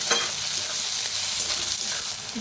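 Mashed eggplant with coriander roasting in a pan, giving a steady close sizzle and crackle of frying with faint stirring scrapes and no voices.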